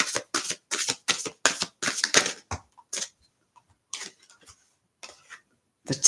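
Tarot cards being shuffled and drawn, a string of crisp riffling bursts up front that thin out into a few scattered, softer flicks and taps, close and clear with no talking.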